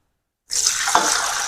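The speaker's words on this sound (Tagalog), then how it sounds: "Eto, lalagyan na natin ng tubig." Water suddenly starts pouring into a cooking pot of pinikpikan in a steady, splashy stream after a moment of silence, continuing without a break.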